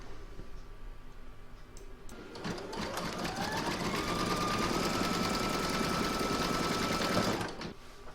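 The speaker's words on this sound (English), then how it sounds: "Now I'm going to place that back into my machine and stitch round number 3 that's going to attach the 2 fabrics." An embroidery machine stitching two placemat fabrics together, with a steady, rapid mechanical ticking and whirring that builds up and runs continuously before stopping abruptly near the end.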